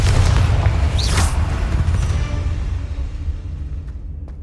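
A Confringo explosion spell in Hogwarts Legacy, heard as a loud, deep boom with a bright crackling burst near the start, followed by a rumble that slowly fades.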